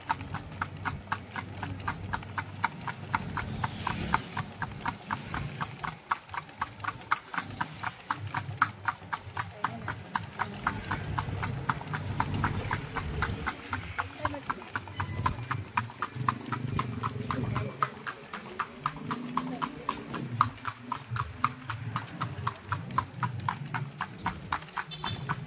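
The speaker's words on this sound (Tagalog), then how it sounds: "Kanino to mga kabayo na to?" Horse hooves clip-clop in a steady, even rhythm while pulling a calesa carriage through Vigan streets, close and continuous, with people talking over the hoofbeats.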